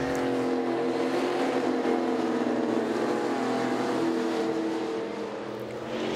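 V8 Thundercars race around a circuit, with a continuous loud engine roar from several cars that fades slightly toward the end.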